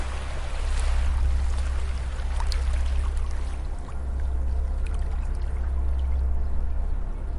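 Gentle ocean waves at a beach wash in as a continuous, soft surf rush with a low rumbling undertone, steady and unbroken, with no voices present.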